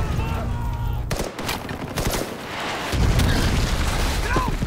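Gunfire from a movie battle scene at a remote mountain outpost: loud overlapping shots and booming blasts hammer on continuously across the whole stretch, with voices shouting amid the chaos.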